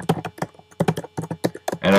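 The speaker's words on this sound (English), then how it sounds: "I'm just typing a little bit of text." Quick bursts of keystrokes clatter on a computer keyboard, close and clear, in uneven clusters with short pauses between them as a bit of text is typed.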